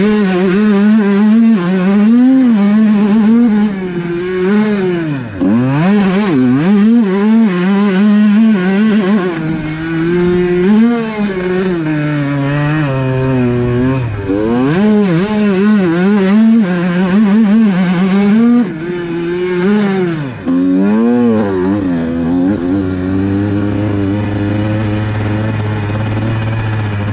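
A 2019 Honda CR125 two-stroke motorcycle engine revs loud and close while being ridden, its pitch climbing and dropping through repeated throttle bursts and gear changes, settling into a lower idle near the end.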